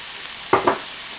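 Cauliflower rice frying and being stirred in a pan, a soft steady sizzle with two brief scraping stirs in quick succession near the middle.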